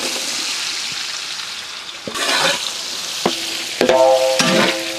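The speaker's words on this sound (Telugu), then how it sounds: "సన్నగా తరిగిన ఉల్లిపాయ ముక్కలు యాడ్ చేద్దాం." Sliced onions drop into hot ghee and oil with cloves, cardamom, cinnamon and shahjeera, giving a soft steady sizzle with a few clinks and stirring scrapes near the end.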